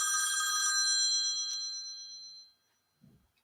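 A telephone ringing with a bright, metallic bell tone that rings out, then decays into silence, followed by a faint rustle and a brief click at the end.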